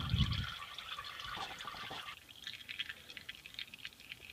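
Motor oil draining from the drain plug of a 2003 Chevrolet Suburban during an oil change, a soft liquid splash and trickle that starts with a brief low gush, then settles into a faint steady dribble with drips.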